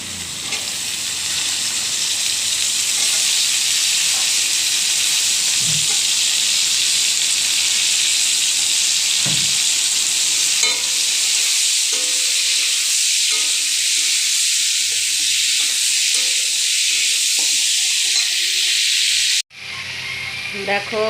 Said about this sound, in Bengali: এই যে এবার বরবটিটা দিয়ে দেবো।